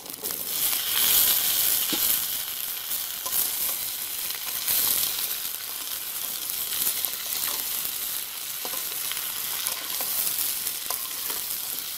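New potatoes dropped into a pan of fried onions and slit green chilies, sizzling and crackling steadily with occasional stirring scrapes, close and continuous in a village-style kitchen.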